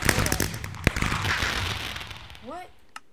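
Fireworks in the Minecraft Build Battle video game crackle and pop loudly in a dense burst that fades, with a few sharp cracks and a short voice near the end.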